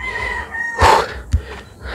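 A rooster crows once in a yard with game fowl, including bullstags and cocks kept in cages, the call rising loudly near the middle and fading within about a second, set against low farmyard background noise.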